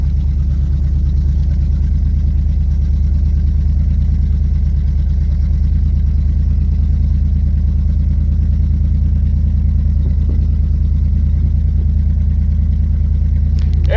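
An old Dodge truck engine runs in a steady, loud, low drone throughout, close by and alone without talk, with a brief knock near the end.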